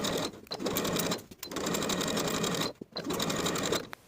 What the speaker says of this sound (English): Then we'll sew the binding in place with a 1/2 inch seam allowance.